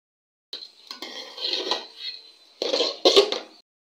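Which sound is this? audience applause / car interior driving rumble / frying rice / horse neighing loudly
frying rice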